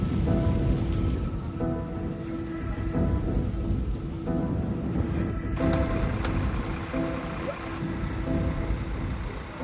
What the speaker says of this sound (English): Rain brings a small relief to the remains of the ravaged town.